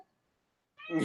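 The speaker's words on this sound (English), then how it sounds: "Kitten is angry." An angry kitten lets out a single loud, harsh meow near the end, after a stretch of near silence.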